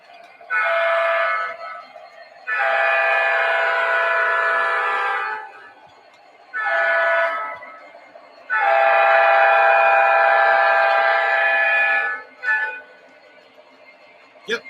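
A model train on MTH RealTrax track sounds its horn in a run of loud, sustained blasts (two long, one short, one long, then a brief final toot) with quiet gaps between.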